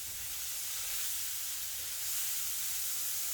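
Onions cook down in a pan for a breakfast omelette, giving a steady, even sizzle and hiss throughout, close and continuous with no voices.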